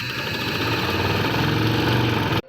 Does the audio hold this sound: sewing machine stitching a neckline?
yes